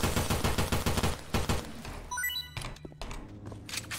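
Rapid gunfire from a Left 4 Dead 2 firefight, with dense repeated shots and bursts throughout, loud and close, mixed with game effects and a rising tonal sweep midway.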